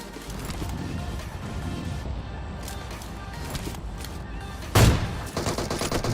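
Gunfire in PUBG Mobile, a rattle of shots under game noise with one sharp, louder burst near the end, heard through the game's mix without speech.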